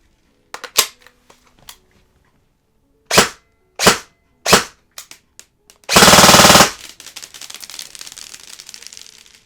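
An ARP9 airsoft gun fitted with a T238 brushless motor and an 11.1 V battery fires a few separate loud, sharp shots, then a fast full-auto burst of about half a second, followed by a fainter rattling tail.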